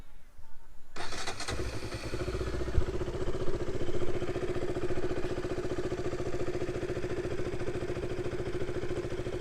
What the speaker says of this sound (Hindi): So let's start the bike now.